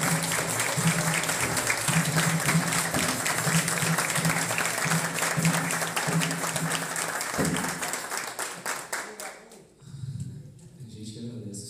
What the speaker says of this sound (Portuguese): Mestre Cal, uma salva de palmas.